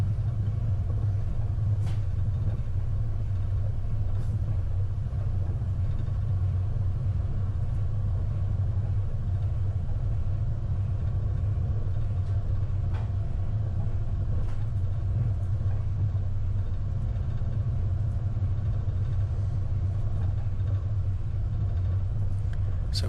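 A vehicle climbs a well-graded gravel track toward Mt Granya summit, heard as a steady low engine and tyre rumble from inside the cab, continuous and unbroken throughout.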